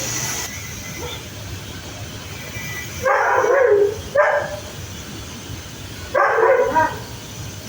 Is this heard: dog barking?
yes